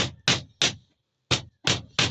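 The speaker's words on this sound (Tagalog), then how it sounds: "martilyo." Six sharp, broadband hammer strikes on wood ring out close and loud during housework, arriving in an uneven rhythm with a clear gap midway.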